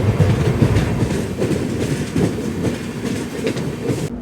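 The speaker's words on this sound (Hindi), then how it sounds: "ये कंप्लीट कार्गो वाली ट्रेन है," A cargo train with parcel vans passes close by in Assam, a loud continuous rumble with rhythmic clickety-clack of wheels over rail joints, alone without talk.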